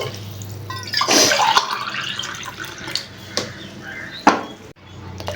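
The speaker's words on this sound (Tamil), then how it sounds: "அது கணக்கு பண்ணி இப்போ தண்ணி ஊற்றிடலாம்." Water pours into a vessel of rice for cooking, a splashing gush that swells early and then settles, broken by a few clinks and knocks as the pot is handled.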